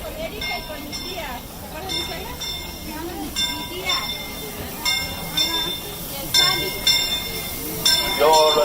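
Disneyland Railroad steam train pulling into Main Street station, rumbling and hissing with squealing wheels and brakes growing louder as it arrives, under a crowd and a public-address announcement.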